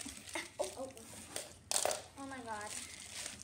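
Plastic packaging of a fidget toy pack crinkles and rustles as it is torn open, with a sharp burst of crinkling partway through, under an excited voice and talking.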